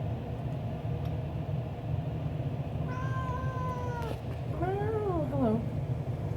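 A cat lets out two meows, the second rising and falling, over a steady low background rumble.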